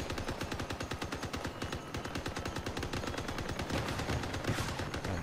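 Rapid automatic gunfire in the vehicle combat game Crossout, loud, dense bursts of shots firing continuously throughout with no pauses.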